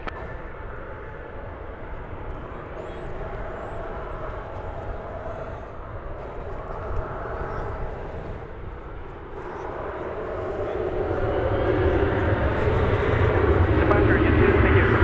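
Boeing 737-9 jet airliner without winglets at Dallas Fort Worth, a moderate engine rumble that builds toward the end, with a voice talking over it.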